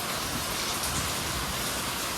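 Heavy rain pours down in a dense, steady hiss in a village setting, loud and continuous throughout with no talk.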